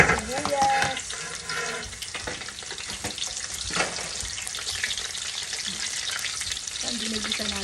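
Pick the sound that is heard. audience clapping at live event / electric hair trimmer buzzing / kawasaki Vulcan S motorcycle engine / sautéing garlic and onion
sautéing garlic and onion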